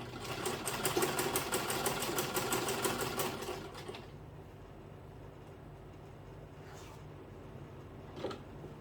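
Sewing machine stitching a zip onto a bodice, a steady rapid mechanical run for the first four seconds, then stopping into quiet room tone with a couple of faint handling sounds.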